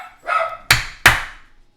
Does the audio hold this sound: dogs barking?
yes